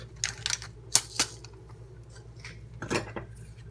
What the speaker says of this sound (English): Then you take your ground pepper with your trusty German grinder, please.